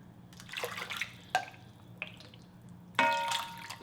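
Water poured into a braising pot for sablefish (black cod) with radish, heard as a few short, close splashing bursts separated by brief pauses, with no talk over it.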